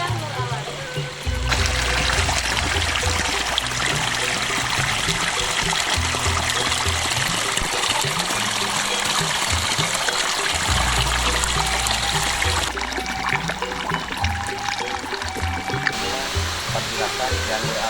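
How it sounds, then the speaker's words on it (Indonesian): Flowing water of the Cikahuripan river at its bank, a steady rushing, trickling stream that stays loud and continuous under someone speaking nearby. "Saat ini saya sedang berada di pinggir Sungai Cikahuripan yang berdekatan dengan petilasan Eyang Nur Alam."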